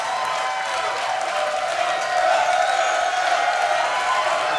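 A sold-out Brooklyn arena crowd at a Schmoedown match roars with cheering and applause, a dense, continuous wash of noise that swells slightly midway.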